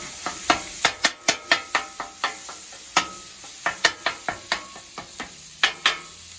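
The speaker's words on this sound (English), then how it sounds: "You got that sizzling up real good." Ground beef sizzles on a hot griddle while a metal spatula scrapes and taps it repeatedly in a quick, irregular rhythm, close and clear without speech.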